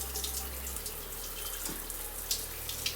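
Hot water streams steadily from a repaired shower after the cartridge fix, a close, continuous hiss and splash with a brief low gurgle near the start.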